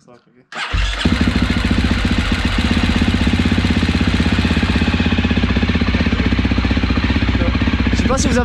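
A freshly rebuilt KTM 250 SX-F motorcycle engine fires up and runs with a loud, rapid metallic clatter from the timing-chain tensioner filling with oil, steady and close for several seconds after a brief cranking start.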